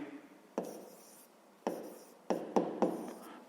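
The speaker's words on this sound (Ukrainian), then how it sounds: "Ну і записуємо дріб." A pen writes a fraction by hand on paper, giving soft scratchy strokes broken by a few sharp taps as marks are set down, close and quiet.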